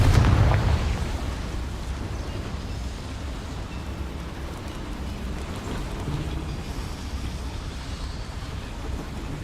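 A Confringo blasting spell going off in the Hogwarts Legacy game, a heavy boom at the start that fades into a long low rumbling roar, loud and close with no talk.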